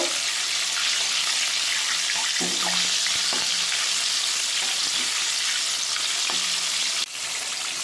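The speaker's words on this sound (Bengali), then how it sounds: "গ্যাসটা লো টু মিডিয়ামে রেখেই কিন্তু এটা ভাজতে হবে নাহলে ভিতরে কাঁচা থেকে যাবে" KFC-style chicken fries steadily in a pan of oil over low to medium heat, a loud continuous sizzle with a few faint utensil taps.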